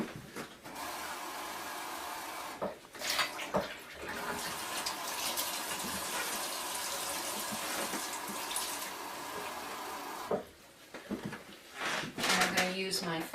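Water poured through a funnel into a bottle while mixing a non-toxic cleaning recipe, a steady continuous pouring rush lasting several seconds, broken by brief handling clatter and light background noise.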